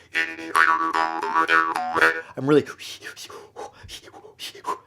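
Bamboo or palm jaw harp played with strong, exaggerated breathing, giving a close, loud twanging drone with shifting overtones for about two seconds, then a swooping boing followed by softer breathy plucks and breaths.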